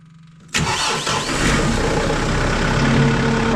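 A tractor engine turns over and catches after half a second, then settles into a loud, steady, close idle with a rough mechanical rumble and faint whine, no voices present.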